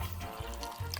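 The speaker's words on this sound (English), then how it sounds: "Add some of that fresh, natural water." Fresh water pours into a pan of rice on the stove, a steady close splashing and trickling with low bubbling underneath, running continuously for the full second.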